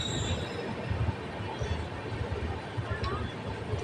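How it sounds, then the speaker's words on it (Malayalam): A Jan Shatabdi LHB passenger train picks up speed, heard as a steady, heavy rolling rumble with a brief wheel squeal near the end. "അപ്പോൾ ഇനി നമ്മുടെ ട്രെയിൻ സ്പീഡ് കൂട്ടും."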